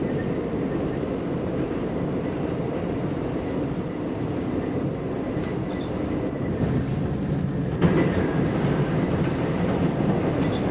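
A simulated R40 Slant subway car on the C line runs steadily on rails with a constant loud roar and rumble, wheel noise holding throughout and a slight jolt near the end.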